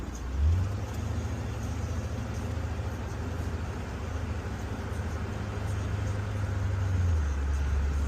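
A 1985 Cadillac Eldorado rolls along with the foot off the gas, giving a steady, loud cabin drone of engine and road noise with a low hum throughout and no voices.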